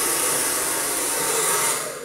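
Hair dryer blowing steadily during hair brushing for a smooth blow-dry, a continuous loud airy whoosh that tapers off slightly at the end.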